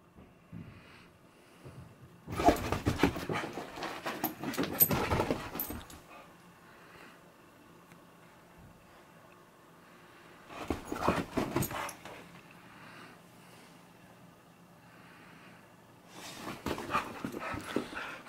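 A dog on a couch pants in three separate bursts of quick, breathy huffs, fairly close, with quiet stretches in between.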